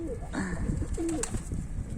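Pigeons coo on a rooftop, several soft, low, close calls scattered across a couple of seconds over light background noise.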